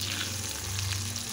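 Shakkar para dough pieces frying in hot oil in a home kitchen, a steady continuous sizzle and bubbling, close and even throughout with no talking.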